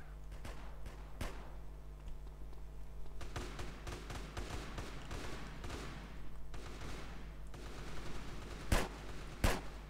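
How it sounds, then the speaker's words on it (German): Video game gunfire comes in rapid volleys and scattered single shots over a constant low hum, with two sharper, louder cracks near the end and no one speaking. "ich habe keinen einzigen Schuss getroffen"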